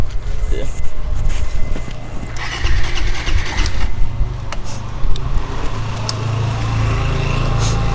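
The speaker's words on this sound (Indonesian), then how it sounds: "Ini saya nyalakan dulu ya" A Suzuki GSX motorcycle, worked on for a clutch switch replacement, has its engine cranked and started in a garage, a rough low mechanical churn that settles into a steady idle, with people talking nearby.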